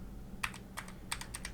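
Quiet, close keystrokes on a computer keyboard while Python code is typed, arriving in short irregular clusters of clicks with pauses between them.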